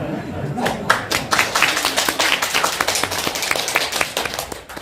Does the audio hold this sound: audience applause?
yes